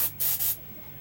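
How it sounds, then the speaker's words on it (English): Two short, close hissing bursts of liquid mask sprayed from an Iwata custom trigger spray gun onto a box, each about a quarter second, followed by quiet. "Show how nice it sprays out of the Iwata custom trigger gun"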